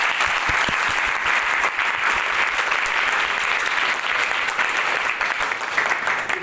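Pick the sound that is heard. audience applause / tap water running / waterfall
audience applause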